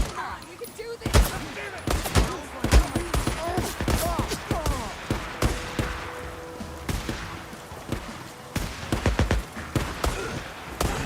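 Gunfire crackles in the Days Gone video game during a chaotic fight, with loud bursts and rapid volleys of shots mixed with shouting voices throughout.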